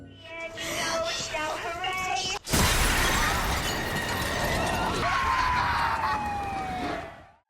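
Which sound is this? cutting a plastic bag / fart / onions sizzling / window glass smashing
window glass smashing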